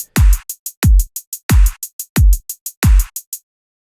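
Programmed drum pattern of punchy kicks, claps and continuous ticking hi-hats at a slightly faster tempo, looping steadily and loudly alone before stopping abruptly.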